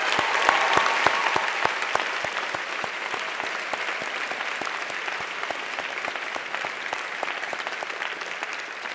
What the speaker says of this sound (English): I ask that you offer a round of applause for our teachers,